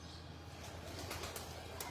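Pigeons on a rooftop in Lahore coo softly and steadily amid a constant low background hum, with a few faint bird calls and no talking.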